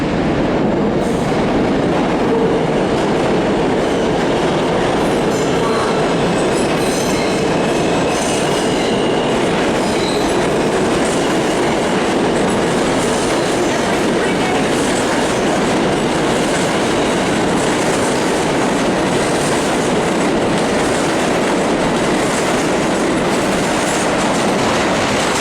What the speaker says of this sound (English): That's another F train.